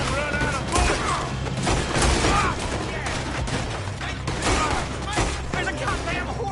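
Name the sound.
gunfire from a PS4 video game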